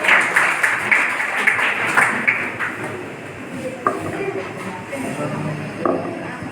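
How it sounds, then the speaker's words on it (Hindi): An audience claps for a child poet at a school poetry gathering, with a burst of scattered clapping that fades into a quieter murmur marked by a few sharp knocks. "जोरदार तालियों से स्वागत कीजिए इनका।"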